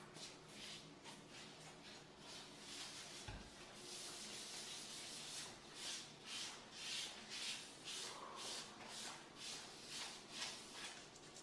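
Sealer is rubbed by hand into a porous granite countertop island, a soft rhythmic swishing and scrubbing that comes in steady strokes, close and quiet, with nobody talking.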